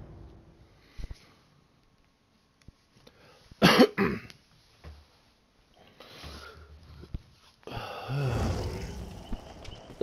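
A person coughs several times between quiet pauses, with throat clearing and sniffing and one loud, harsh coughing fit in the middle, close to the microphone.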